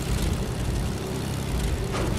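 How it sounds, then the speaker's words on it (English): A propeller airplane drones continuously in a multiplayer combat video game, a loud, steady engine roar with rumbling low end and broad noise, no talk over it. "Oh, there's a plane in the air."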